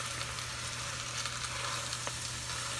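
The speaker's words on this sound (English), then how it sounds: "the spinach is already starting to cook down" Spinach wilting down in a hot stir-fry pan makes a steady, faint, close hiss of frying that runs on without a break, with a few tiny crackles and no voices.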